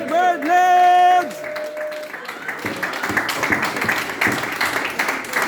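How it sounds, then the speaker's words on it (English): A loud drawn-out vocal cry rings out first, then a crowd breaks into clapping that continues steadily to the end. "We have to give a big, massive Afro-applause to Birdleg."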